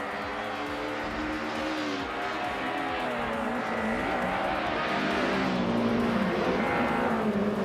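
Several racing cars roar continuously during a video game race led by a 2000 Audi A4 B5, with engines revving and shifting pitch steadily throughout and no talking.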